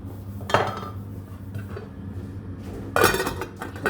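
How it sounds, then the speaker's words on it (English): Kidney beans stirred into a pot with a spoon, giving two distinct metallic scrapes and clinks against the pot about two and a half seconds apart, close and fairly loud over a low kitchen hum. "put in the kidney beans now. Give those a good stir in."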